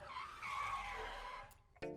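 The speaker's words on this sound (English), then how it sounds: "a car dashing around the schoolyard at full speed and drove through a puddle" Animated car racing around a schoolyard at full speed, a loud sustained tire skid and engine whoosh that fades out, followed by a brief splash-like burst at the end.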